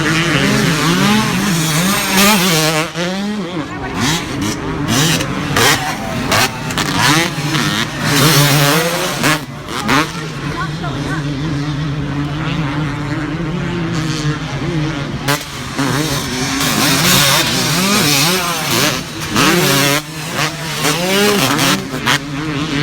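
Two-stroke motocross bikes race in a 125 Open championship moto, engines screaming loud and near as they rev, shift and pass, pitches rising and falling in a continuous, overlapping roar.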